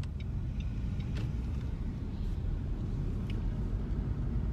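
A car on a driving test route in Tallaght makes a right turn, giving a steady low engine and road rumble from inside the cabin, continuous and moderately quiet with no speech.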